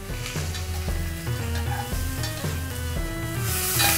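Onions and meat frying in oil for a stew crackle with a constant sizzle, broken by a rhythmic run of spoon scrapes and stirring knocks against the pot, close up and without voices.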